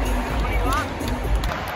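Stadium crowd at an NRL rugby league match between the Tigers and Eels on Easter Monday, a loud, steady roar of massed voices and cheering with nearby shouts mixed in.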